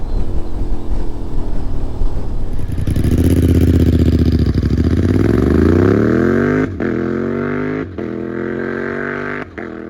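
A Honda Transalp XL750 motorcycle fitted with a Black Widow full exhaust roars loud and close, its engine note climbing steadily, then breaking with a couple of brief gear-change drops. No one speaks.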